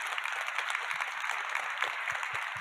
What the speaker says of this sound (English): Can we give a quick applause to the panel?